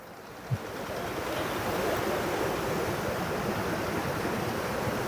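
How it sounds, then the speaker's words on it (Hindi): The Kunhar River rushes past at Naran, fed by glaciers, as a loud, steady wall of water noise that holds unbroken from start to finish. "ये दरिया कन्हार है जी, और इसकी लहरें जो हैं आप देखें, साफ शफाफ पानी"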